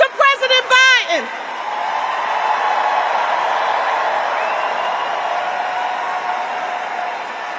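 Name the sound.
rally crowd applauding and cheering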